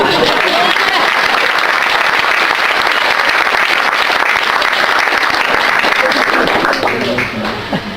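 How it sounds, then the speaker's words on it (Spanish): Applause from an audience at a Spanish-language Christian talk, a loud, sustained crowd clapping that runs continuously before easing off near the end, with faint voices mixed into the crowd. "denle un aplauso a eso"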